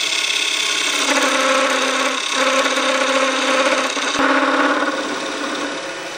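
Wood lathe spinning a bowl blank as a gouge cuts away material, a loud continuous humming drone with a tonal whine that shifts slightly as the cut changes, no talk.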